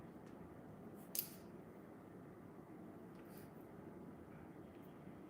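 Scissors cutting hair for a blunt bob in a salon: a couple of crisp, quiet snips over a faint steady background hum.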